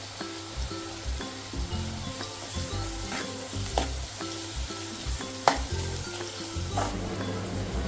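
Three or four cut green chillies fry in oil in a pan for a dry fish curry, giving a continuous, close sizzle with faint stirring scrapes and a few brighter spits, no one talking.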